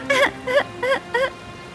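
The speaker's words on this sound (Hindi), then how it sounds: "दोनों बच्चे रोने लगे।" Cartoon bird chicks crying in a Hindi animated story about a flood, four short whimpering sobs in a quick uneven rhythm, close and moderately loud with no talk over them.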